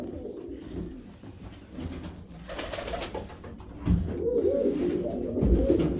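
A pigeon coos softly nearby in short, throaty bursts, the low calls repeating a few times over quiet ambient noise.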